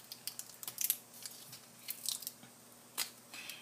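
A gummy candy wrapper is peeled open in Japan, giving a run of small close crinkles and crackles in quiet surroundings, with a short sharper tear near the end.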